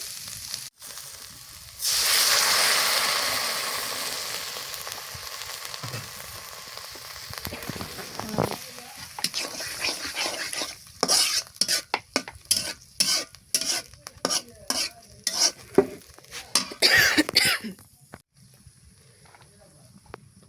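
Onion and garlic frying in a pan with a loud, close sizzle, then water goes in and the hiss settles into a rhythmic series of scraping stirs against the pan.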